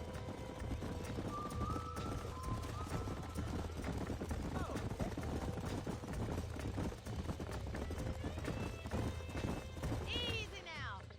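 Horses in the Red Dead Redemption video game neigh and snort over steady clip-clopping hooves on a ranch, with game music and ambience running underneath and a rising whinny near the end.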